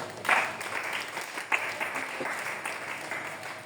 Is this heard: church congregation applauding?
yes